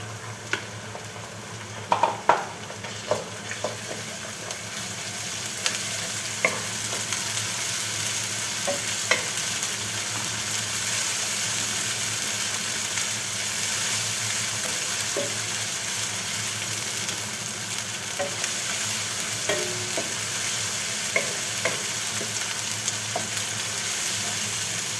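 Ginger and garlic paste sautés in oil for a long stretch, a steady dense sizzle with scattered spoon scrapes and knocks, close and moderately loud, with no one talking.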